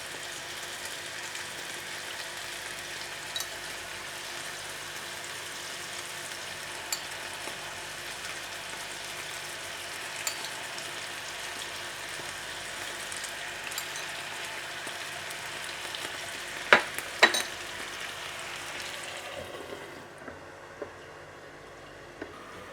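Beef steak sizzles and fries steadily in a hot Teflon pan over a low flame, a continuous crackling hiss with a few sharper pops near the end before it fades out.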